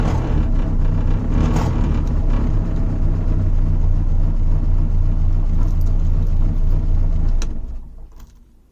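A Morris Minor 1000 car engine idles steadily and loudly nearby, a constant low rumble that cuts off and fades away near the end.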